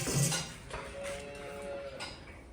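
A cow moos once, a drawn-out low call up close, amid faint farmyard clatter while cows are herded in for milking.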